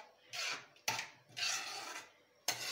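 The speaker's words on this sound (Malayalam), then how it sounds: "അപ്പോൾ നമുക്കതൊന്ന് നല്ലവണ്ണം ഇളക്കി കൊടുക്കാം" A spoon scrapes through carrot halwa cooking in milk in a pan, giving several rhythmic rasping strokes with sharp knocks against the pan between them, close and fairly quiet, with no talking.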